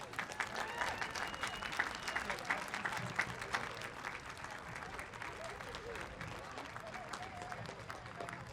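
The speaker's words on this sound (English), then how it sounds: "One final applause for B6." A crowd at a school moving-on ceremony keeps up continuous, dense applause that stays fairly faint and distant, with faint voices mixed in.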